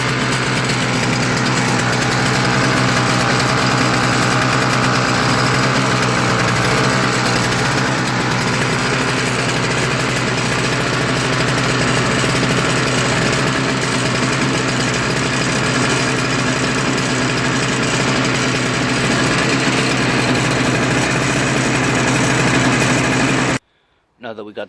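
A Toro CCR 3650 R-Tek single-stage snow blower engine runs steadily close by, a loud, continuous high-pitched buzzing drone that holds constant before cutting off abruptly at the end.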